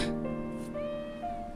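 A cat meows in the video game GTA: a clear, drawn-out meow with a rising and falling pitch, heard alone at moderate loudness over faint background game sound.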